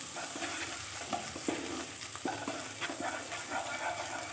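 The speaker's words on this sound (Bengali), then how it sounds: "এটা একটু ভেজে নিই।" Rice with vegetables frying in a pan for restaurant-style mixed fried rice, a steady sizzle broken by repeated scraping, stirring strokes of a spatula, close and fairly loud with no talk.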